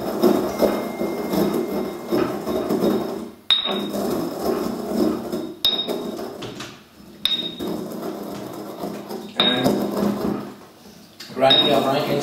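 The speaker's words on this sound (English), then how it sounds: "Grind your frankincense until you get really finely ground powder." Frankincense is ground with a pestle in a mortar, with steady close scraping and grinding broken by several sharp knocks of the pestle, and a voice talking at times over it.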